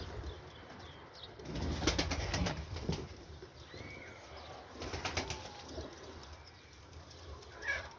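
Görsel Mermer pigeons in a coop give soft low coos while bursts of wing flapping rise and fade twice, close by, over a quiet background with no speech.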